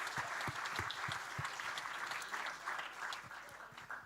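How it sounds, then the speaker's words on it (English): A room full of people gives a massive round of applause for parents and caregivers at the Future Anything national grand final, steady dense clapping that carries evenly through without voices. "a massive round of applause."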